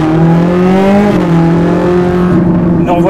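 A Ferrari 458 Italia Oakley Design driven on the Mortefontaine road circuit, with a loud, close engine holding a strong steady tone that climbs, shifts, and rises again under acceleration.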